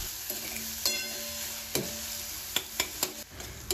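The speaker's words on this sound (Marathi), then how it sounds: "आता यामध्ये मध्यम आकाराचा चिरलेला कांदा आणि मध्यम आकाराचा चिरलेला टोमॅटो मी छान परतून घेणार आहे" Chopped onion and tomato sautéing in a pan, a steady low sizzle under a handful of sharp spatula scrapes and clicks against the metal, close and fairly quiet, with no talking.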